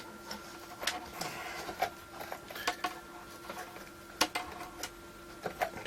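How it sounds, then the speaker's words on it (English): Small screw being worked out of a metal plate on an Ever Ready Sky Baron radio during restoration, giving sparse faint metallic ticks and clicks against a quiet, humming room. "I'm just trying to get this screw out of the plate so I can put it in the bag"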